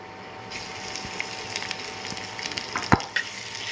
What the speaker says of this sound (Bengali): এই তো পেঁয়াজটা একদম ভাজা ভাজা করে নিয়েছি, এখন দিয়ে দেব আদা রসুন বাটা।